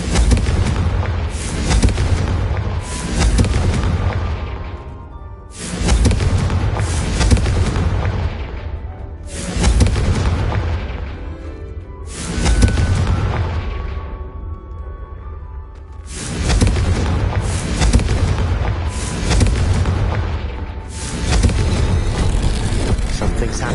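Repeated Confringo fire spell blasts in the video game Hogwarts Legacy: a series of loud, booming explosive bursts, several in quick succession, each trailing off into rumbling decay before the next volley.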